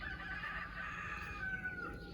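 A rooster crows in a farmyard, answering the crowing of other roosters. The long, drawn-out call sounds faint and somewhat distant over a low background hum.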